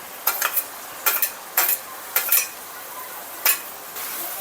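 Onion, ginger-garlic paste and tomato stirred in a frying pan for Hyderabadi chicken biryani, several distinct spoon scrapes and clinks against the pan over a faint background sizzle.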